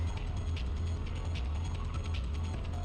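A sewing machine runs steadily while stitching the front of a pair of shorts together, giving a continuous low mechanical whir with faint rhythmic ticking, close and fairly quiet.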